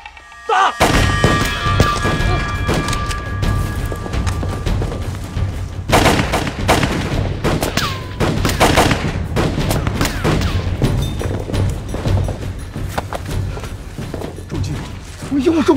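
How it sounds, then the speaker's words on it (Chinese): Gunfire in a war drama battle scene erupts in loud, repeated volleys and booming shots, near and sustained, with shouted voices and commotion mixed throughout. "准备射击。 好， 打。"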